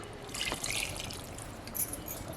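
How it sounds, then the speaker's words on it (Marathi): Water mixed with ground spice paste is poured into a pot of chicken cooking over a village wood-fired stove, giving a soft, quiet trickle that runs steadily for about two seconds with no talk. "आणि जे आपण वाटण केलं ना त्याचं पण पाणी मी ह्याच्यात ओतते"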